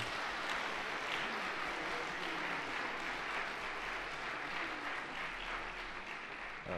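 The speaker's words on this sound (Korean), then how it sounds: "이제 우리 교회 정식 교인이 되고 한 식구가 된 이들에게 큰 축하의 박수 부탁드립니다" A church congregation applauds new members at a Christmas service, with sustained, even clapping from a large crowd filling the room throughout.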